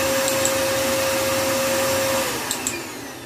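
A Hoover vacuum cleaner runs indoors with a loud, steady motor whine and airy hiss. Its pitch drops slightly near the end, and a couple of faint clicks sound.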